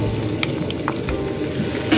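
Two large onions hit a hot pan where garlic has just browned, giving a steady, close frying sizzle with a few brief crackles and no talk.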